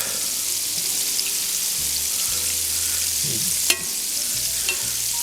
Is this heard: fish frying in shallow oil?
yes